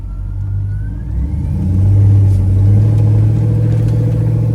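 A 1972 Oldsmobile Cutlass restomod with a drive-by-wire V8 revs up from a deep idle rumble, holding a steady, smooth, throaty note close by, with no voices over it.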